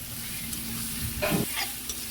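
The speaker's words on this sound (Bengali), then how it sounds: "এখন আমরা খুন্তি দিয়ে ভালো মতো এই মশলাগুলো একটু কষিয়ে নিচ্ছি তেলের সাথে" Ground spice paste with garam masala stir-fried in hot oil with a metal spatula while cooking a crab fry, a steady close sizzle with a few scraping stirs.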